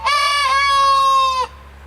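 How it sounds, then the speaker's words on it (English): A rooster crows once, loud and close, a drawn-out cock-a-doodle-doo lasting over a second before cutting off, with quiet background after. "yeah, that's the rooster."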